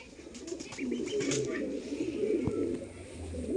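Kaldom pigeons, a big-sized fancy breed, coo in soft low repeated pulses close by, with faint chirps and background rustle throughout.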